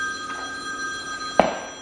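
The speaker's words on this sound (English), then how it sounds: "It's my work phone." A work phone rings with a steady electronic tone through a quiet room, topped by one short, sharper blip near the end, with no talking.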